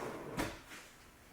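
A handmade drawer built from leftover scrap lumber slides open or shut with one brief woody scrape and knock, close and fairly quiet, followed by a fainter second movement.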